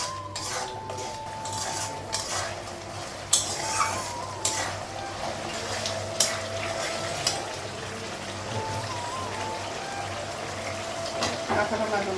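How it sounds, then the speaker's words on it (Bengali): Sliced onions fry in a pan with ginger, garlic, cumin powder, turmeric and salt for a drumstick and potato dish: a steady close sizzle under frequent metal spoon scrapes and clinks, with a few sharper clatters of the pan. "পেঁয়াজটা ভালো করে ভেজে নিয়েছি আর মশলাটা লাগালাম"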